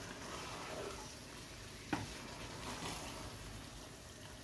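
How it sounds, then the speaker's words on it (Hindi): Potato, pea and minced meat qeema sizzling and frying in a pan while being mixed, a steady soft hiss with a single brief scrape or clink of stirring partway through. "मिक्स कर लेते हैं इसको।"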